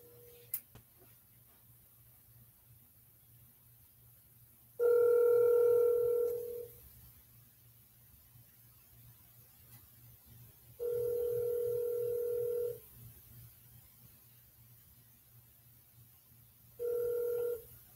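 Outgoing phone call ringing before reaching voicemail: three evenly spaced electronic ringback tones, each about one to two seconds long, with long silent gaps between them, clear but moderately quiet over a low hum, no talking.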